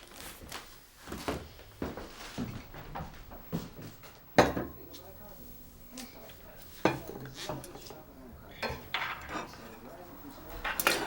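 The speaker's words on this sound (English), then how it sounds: "Well, don't worry about the dishes." Dishes, pots and cutlery clatter and clink in a home kitchen as they are washed and handled, with irregular knocks and scrapes near and moderately loud, while people talk quietly over the sounds.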